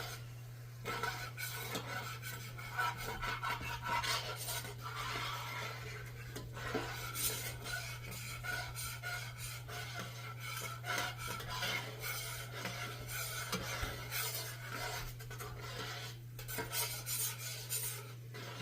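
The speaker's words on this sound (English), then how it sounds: "Now, this is when you want to scrape your pan, the bottom." A utensil scraping the bottom of a pan while deglazing with wine for beef osso buco, repeated rasping strokes over a low hum and faint sizzle, close and continuous.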